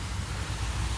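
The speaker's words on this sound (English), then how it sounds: "Cars on a wet road and a rainy day." Steady hissing wash of traffic on wet pavement, a continuous static-like swish with a low rumble underneath, fairly close and unbroken.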